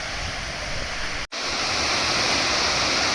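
Steady, loud rushing water pours over Upper Manair Dam, a broad continuous roar with one brief dropout partway through, no voices present.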